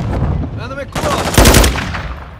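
Close, loud bursts of automatic gunfire in Call of Duty: Modern Warfare II, rapid cracks in a short cluster with a brief pause before a heavier volley.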